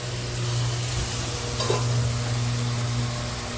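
Ingredients sauté gently in a pan for mutton biryani, a continuous soft sizzle with a low steady hum beneath and one brief scrape of stirring midway.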